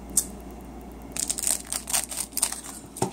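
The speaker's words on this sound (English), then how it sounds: "I'm gonna have to do this with scissors," Scissors cut and crinkle through plastic clothes-hanger packaging, making irregular crunchy snips and rustles at close range, with quiet pauses between bursts.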